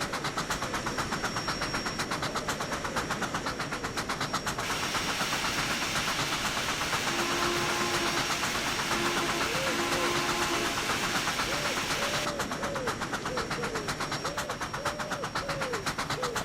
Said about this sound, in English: It's probably my favourite locomotive K&L Trainz has released